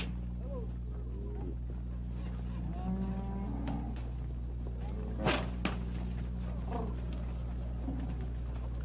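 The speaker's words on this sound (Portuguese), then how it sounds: "Os bois da invernada, limpos e saudáveis." A herd of oxen on a long cattle drive to a Brazilian ranch in 1984 lows, with several moos rising over a steady low engine-like hum while someone talks.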